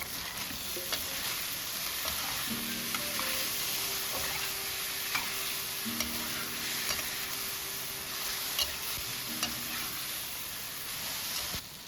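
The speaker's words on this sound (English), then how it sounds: "Stir a few more times." Bitter melon and shredded chicken sizzle steadily in a hot pan as they are stirred, with light scraping and clicking of the utensil over constant frying hiss and no talk.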